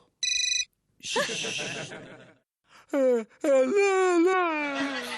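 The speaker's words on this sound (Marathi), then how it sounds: "हा नक्की तुमच्या त्या रंभेचा फोन असेल" A mobile phone rings with an incoming call: a short burst of bright electronic ringtone beeps at the start, followed by people talking and a whimpering voice.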